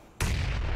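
A bomb goes off in a video game, a sudden sharp blast followed by a brief booming rumble, fairly quiet overall and heard alone.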